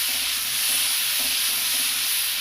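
Masala with yogurt fries in a pan on a low flame, giving a continuous close sizzle with soft scraping as it is stirred.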